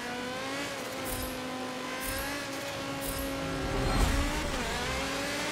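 A 2016 Audi TT RS race car in Forza Motorsport 7 drones steadily with a buzzing engine tone, rising and falling through gear changes with brief higher bursts, growing louder around one revving peak near the end.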